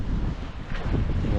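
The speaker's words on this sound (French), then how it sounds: "le vent s'était levé et le bateau avance très bien, on est entre 6 et 7 nœuds" Strong wind buffets a sailboat at sea making 6 to 7 knots, a dense, steady rumble and rush of gusts with no voices.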